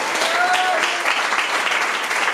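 A church congregation claps loudly and steadily in a dense, continuous round of applause that carries from start to finish with no pauses.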